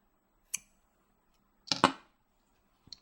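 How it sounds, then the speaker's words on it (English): Small scissors snip excess rubber bands in a few quick, quiet, close cuts: one isolated snip, a brief double snip a moment later, then a faint final click. "Now you can just cut your excess rubber bands"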